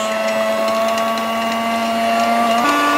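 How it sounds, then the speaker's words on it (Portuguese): A whisk mashes boiled potatoes with milk for a salt cod pie, set against a steady, loud motorised whirring hum that rises slightly in pitch near the end, with no talking. "com as varas vamos começar a moer as batatas"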